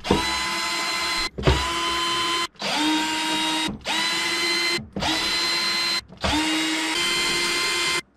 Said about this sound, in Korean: 나사를 풀어서 한번 보드를 한번 보겠습니다